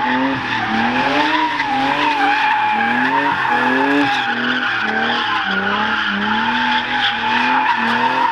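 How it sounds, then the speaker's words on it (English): A car drifts near a security post, its tires squealing steadily for about eight seconds over a wavering engine note, loud and close with no talk. "and I just drifted"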